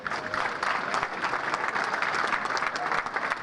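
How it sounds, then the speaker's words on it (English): A banquet crowd at a sports hall of fame enshrinement dinner claps steadily and warmly. The even, dense applause fills the room without a break. "give Cliff and his staff a great big round of applause"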